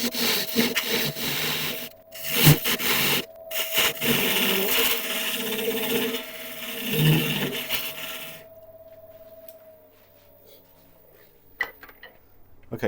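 A wood log turning on a lathe, the tool scraping and shaving in rough, grinding bursts over a steady motor whine for about eight seconds before the cutting stops and the machine winds down.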